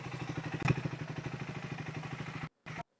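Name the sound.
motorcycle engine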